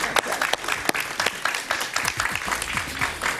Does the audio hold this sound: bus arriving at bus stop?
no